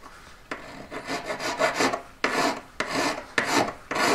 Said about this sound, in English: So I'm just filing the shoulder, I'm not going to the very top